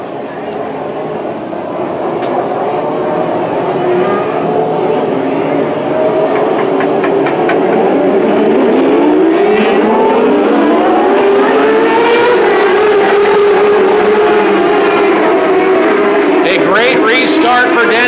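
600 micro sprint race cars scream through the restart at Petaluma Speedway, high engine notes rising and sweeping past under a race announcer's continuous commentary.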